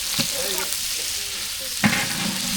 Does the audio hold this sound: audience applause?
no